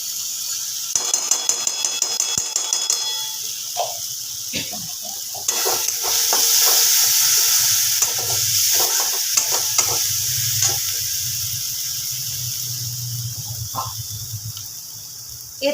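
Spice masala frying with a spoonful of ghee for a hotel-style egg curry, a continuous hiss and sizzle broken by scraping stirs and occasional clinks of the spoon against the pan.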